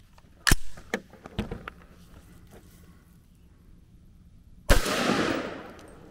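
Sharp gunshots from a 300 Blackout rifle firing Hornady Black 125 grain ballistic tip ammo outdoors, a few loud isolated cracks spaced apart, the last followed by a lingering echo.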